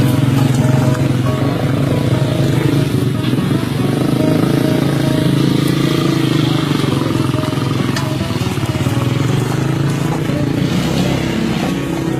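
Loud, continuous motorcycle engine noise droning steadily at close range throughout, riding over rough roads, with no clear voices standing out.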